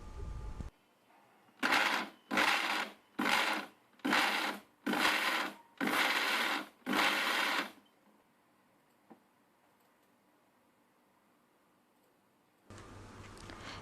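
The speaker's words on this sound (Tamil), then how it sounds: "அடுத்ததாக பூண்டையும் போட்டு லைட்டாக அடிச்சிக்கலாம்." A kitchen mixer grinder pulses garlic into idli podi in seven short, evenly spaced bursts of whirring, then goes quiet before the motor starts once more.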